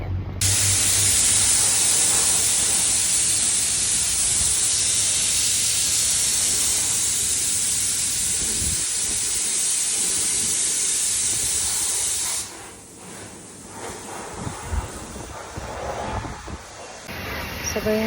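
Loud pressure-washer spray hissing steadily as a car is cleaned at a service car wash, close and continuous, then cutting off abruptly to quieter intermittent background sounds and faint talk.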